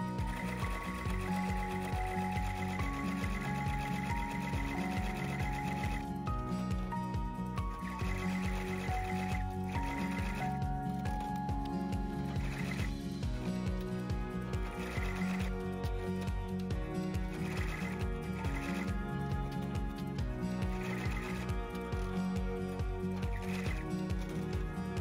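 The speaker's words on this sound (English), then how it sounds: "So let's sew this out and we'll see the results, because the proof is always in the stitching." An embroidery machine sews out a design with a continuous loud mechanical whirr and rapid stitching chatter, its motor tones shifting as it moves between stitches, close and with no voices.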